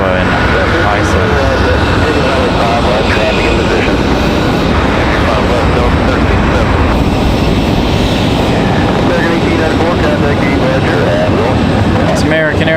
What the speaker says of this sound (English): It's American Airlines 1894 off and rolling.